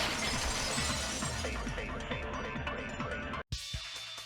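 A vase shatters in the video game Danganronpa 2: a sharp glass-like crash followed by tumbling, clattering shards that trail off, then a brief cutout and a quieter tail.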